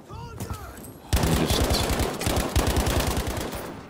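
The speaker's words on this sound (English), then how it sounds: "Someone's shooting at me." Rapid automatic gunfire in the World War II shooter game Battlefield V: a dense, continuous burst of close, loud shots that kicks in sharply after a quieter opening moment and keeps hammering for several seconds.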